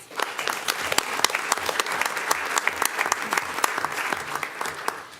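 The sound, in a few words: applause at a school board meeting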